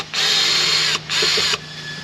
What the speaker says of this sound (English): Now we're going to take the screws out.